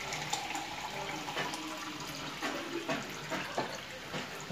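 Water running from a tap while animal parts are washed for homemade dog and cat food, a soft steady splashing stream with faint irregular sloshes, fairly quiet throughout.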